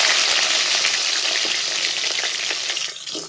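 Garlic and onion frying in hot oil in a home kitchen, with a loud, continuous close sizzle that fades slightly toward the end.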